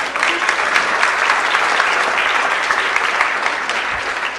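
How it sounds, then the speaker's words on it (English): Sustained applause from a room of people honoring a young winning baseball team, steady and dense clapping throughout with no break. "Let's give him a round of applause."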